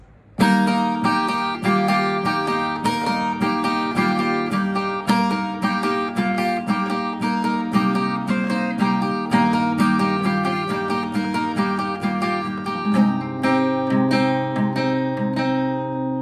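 An acoustic guitar plays the main riff of a song, a continuous strummed chord riff, bright and ringing, at an even loud level throughout.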